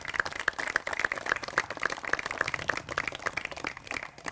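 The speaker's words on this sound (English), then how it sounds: "Give him a huge round of applause." A public event crowd applauds at a county gathering where a public garden location is unveiled. Dense, steady clapping carries on for several seconds, with no voices over it.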